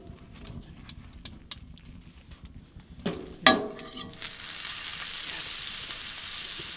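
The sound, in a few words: sourdough bagels toasting in butter in a skillet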